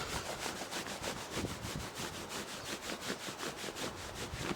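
Hands rubbing briskly over the legs during self-massage, a rapid rhythmic swishing friction repeated about three times a second, close and steady.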